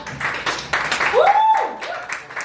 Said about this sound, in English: Clap if you've been here before.